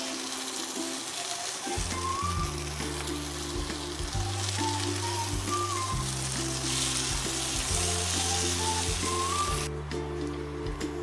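Lote fish fries with chillies in a pan, giving a loud, continuous sizzle. Steady stirring runs underneath it, and a faint tonal hum drifts in the background. No one speaks.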